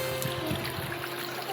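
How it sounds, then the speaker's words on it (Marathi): Water trickling along a footpath toward a stream, a steady close running wash with no voices. "वाटेनेच पाणी वाहतोय"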